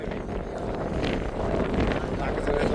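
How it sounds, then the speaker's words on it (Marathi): Cold wind buffets the microphone on a January climb up Kalsubai peak, a continuous heavy low rumble that stays loud for the whole moment and swells slightly toward the end. "खतरनाक गार वारा आहे"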